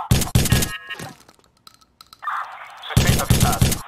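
Bursts of gunfire in Watch Dogs on Wii U: short rapid volleys open the moment, a lull with faint mechanical tones follows, then another close, loud burst of automatic shots closes it out.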